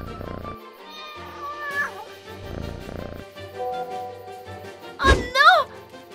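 Cartoon kitten meows a few times over background music, with a thunk or two, and a sharp, loud meow near the end.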